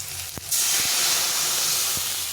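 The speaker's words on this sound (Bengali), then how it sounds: "এই যে ফুটে গেছে ঝোলটা" Turmeric-and-salt broth with fried mango pieces boiling in a pan, a steady close hiss and bubbling roar that swells in after a soft clink and runs on alone.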